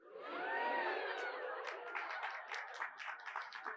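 A crowd breaks into clapping and cheering that starts dense and steady, then thins into scattered claps with a few voices calling out near the end.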